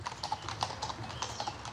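Mounted Republican Guard horses walk through the Bois de Boulogne, their hooves making a steady, fairly soft clip-clop over low background noise, with no talking.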